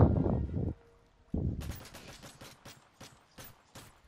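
P90 submachine gun fire in Modern Warfare 3, a couple of heavy close bursts followed by a rapid string of sharp automatic shots.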